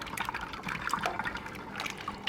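Melted beef tallow pours steadily over a smoked brisket, a close, continuous liquid trickle and splatter lasting a couple of seconds without talk.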